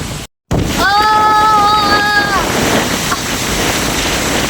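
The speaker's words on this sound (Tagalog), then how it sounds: "Ang lakas ng hangin!" Loud wind buffeting a microphone with surf roaring beneath, and a short high whistle-like tone rising briefly early on.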